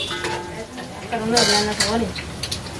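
Fish frying in a pan at home, a steady sizzle with scraping and clinking of a utensil against the pan, close and fairly loud, with a voice briefly audible over it.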